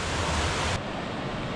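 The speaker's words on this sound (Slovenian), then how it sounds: "Še en majhen slapič." Small waterfall cascade on the Mrzli potok stream in the Posočje region, a loud steady broadband rush of falling water close by that abruptly drops to a softer, duller flow partway through.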